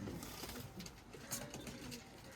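Kamagar pigeons kept for sale in Bolpur coo faintly in a low, steady burble, with a few brief, brighter notes over a soft background.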